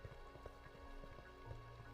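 Steady rainfall in a Minecraft world, a soft continuous patter with scattered drop ticks, level and even throughout with no voices.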